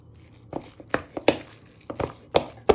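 A fork pats and chops sausage meat, giving a series of soft, irregular close-up thuds and scrapes, about a dozen dull taps spread over a quiet background.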